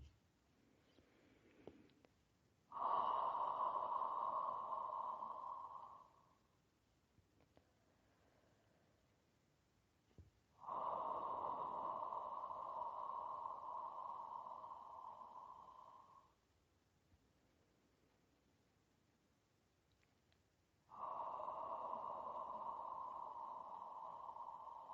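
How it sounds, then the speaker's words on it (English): A person channeling makes deep, raspy Darth Vader style breaths: three long drawn-out breaths, each lasting several seconds, separated by quiet pauses. "When I channel, I do what I call Darth Vader breathing"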